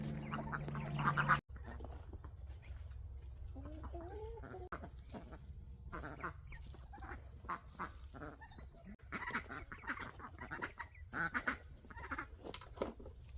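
Ducks quack and chatter in a loose, irregular flock nearby, with other fowl clucking among them, in a garden enclosure beside strawberry beds; no one speaks.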